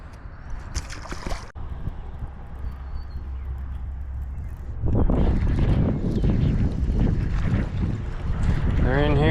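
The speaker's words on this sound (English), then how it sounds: "The wind blowing in on it." Wind buffets the microphone outdoors on the water, at first a low rumble that becomes heavier and more turbulent gusting through the second half, with faint sounds of movement beneath it.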